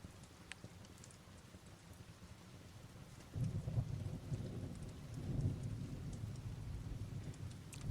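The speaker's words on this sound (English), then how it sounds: "The thunderstorm that you hear is right outside the window." Rain falls outside a window during a thunderstorm, a soft, steady patter at first, then a low rumble of thunder swells midway and lingers beneath the rainfall.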